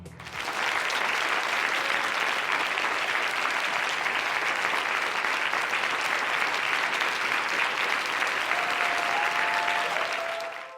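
Sustained theater audience applause from a TV show finale, a dense, steady wash of many hands clapping at close range for about ten seconds, with a faint tonal note near the end.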